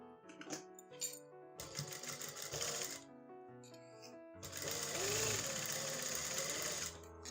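A sewing machine runs a seam along the hem edge of a trouser leg, with the excess fabric trimmed away. It comes in three bursts of rapid, even stitching, the longest and loudest near the end, with short pauses between.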